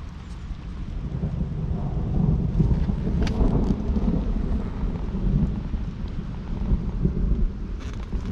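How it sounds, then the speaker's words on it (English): Low thunder rumbles on and on across the sky during a storm at a beach fishing spot, a deep continuous grumble with faint rain hiss and one brief sharper crack midway. "There's a lot of grumbling going on up there."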